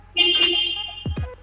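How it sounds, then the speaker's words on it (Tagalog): A 2024 Toyota Corolla Cross 1.8 V hybrid gives one steady horn blast of about a second, followed by two quick dull knocks. "Check natin yung horn."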